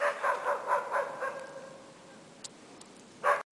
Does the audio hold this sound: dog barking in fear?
yes